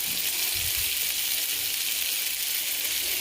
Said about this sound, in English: now essentially we're just waiting for these sausages to brown off